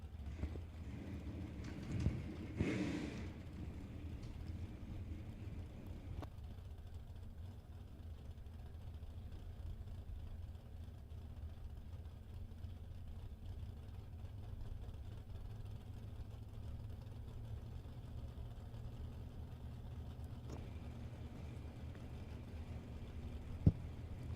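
A flat black 1984 Chevrolet Camaro drag race car idles at the strip, making a low, steady rumble that stays faint and distant for the whole stretch, with a brief louder burst near the start.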